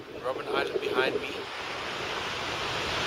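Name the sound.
ocean waves and wind at a beach in Cape Town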